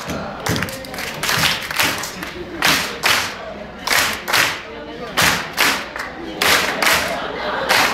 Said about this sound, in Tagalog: Sige, sabay-sabay tayong palakpak.